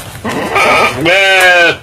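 A goat bleating in a small demonstration goat pen, two loud, close, wavering calls back to back, the second longer and more tonal, with no other voices.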